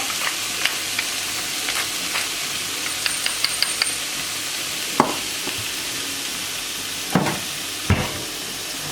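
Chanterelle mushrooms seasoned with salt and pepper sauté in a pan, a steady soft sizzle with occasional sharper crackles and a few clanks of a utensil stirring, no one talking.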